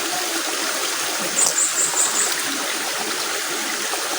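Water in a stream flowing steadily, a continuous soft hiss and trickle with a few slightly louder gurgles partway through, heard on its own.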